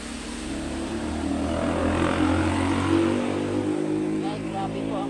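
Steady, loud whir of a sewing machine motor running continuously while pants are being sewn, a constant droning hum with a faint voice underneath.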